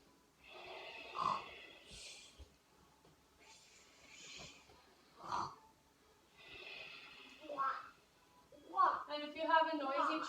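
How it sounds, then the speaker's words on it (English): During a yoga practice session, a series of close, soft breaths and nasal snorts come in separate puffs, ending in a denser cluster of breathy, voice-like sounds. "Big inhale."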